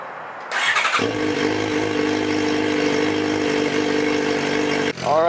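A loud Suzuki GSX-R600 engine with a new exhaust and no baffle cranks and catches, then settles into a raw, throaty idle that holds steady before a brief blip near the end.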